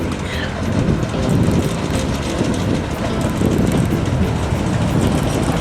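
A Borsig steam locomotive pulling a train rumbles past at close range, a loud continuous roar with faint rhythmic clatter of wheels on the track.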